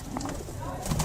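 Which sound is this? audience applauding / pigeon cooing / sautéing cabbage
pigeon cooing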